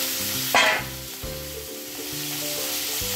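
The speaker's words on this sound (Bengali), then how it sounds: "পেঁয়াজটা ভাজা হবে তখন, পেঁয়াজটা ভাজা ভাজা হয়ে গেছে।" Chopped onion with garlic fries in a pan, giving a loud, steady sizzle with a brief burst of stronger crackle early on.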